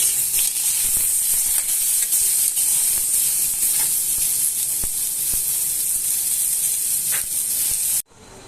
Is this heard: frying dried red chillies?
yes